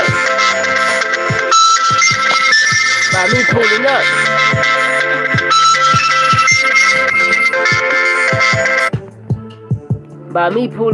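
A phone ringtone plays loud and continuous, a bright melodic synth pattern that keeps repeating for about nine seconds and then stops, while someone talks over it.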